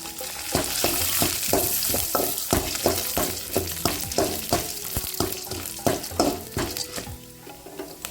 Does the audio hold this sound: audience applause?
no